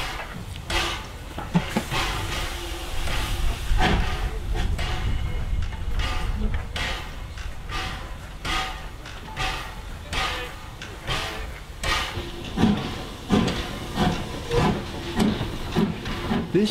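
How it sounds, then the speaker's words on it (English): A steam locomotive shunts coaches along a platform on the Freshwater, Yarmouth & Newport Railway, with a steady hiss of steam, rhythmic chuffing and intermittent clanks and rumbles of the moving carriages, fairly loud and close throughout. "the locomotive would shunt the coaches towards the start of the platform after the run round"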